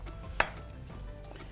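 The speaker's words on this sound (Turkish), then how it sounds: "Şöyle güzelce doğradık." A kitchen knife chops food on a board in one distinct near knock over a steady background hum, with faint tapping around it and no talk.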